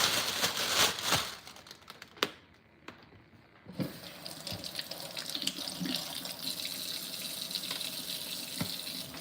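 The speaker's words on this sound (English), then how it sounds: "Got some peppers. I'm gonna rinse those off." Peppers being rinsed under a running kitchen tap, a steady hiss and splash of water with brief handling noises and a short pause partway through, close up.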